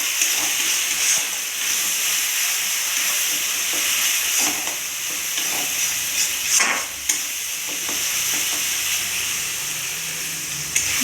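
Spinach paneer masala for a dhaba-style palak paneer is stir-fried in a pan, giving a steady close sizzle and hiss with occasional scrapes and clinks of the spatula.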